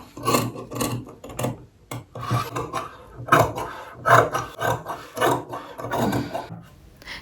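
Fabric being cut with scissors around a suit neckline during tailoring, a steady series of close rasping snips and rubs arriving every half second or so, with no talk over them.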